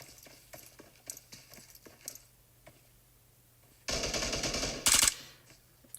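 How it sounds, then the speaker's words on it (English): Distant single shots pop in PUBG during a duo championship match, then a loud close burst of automatic gunfire breaks out near the end, with no voices. "Sons of Odin are firing upon Team 9 at the moment"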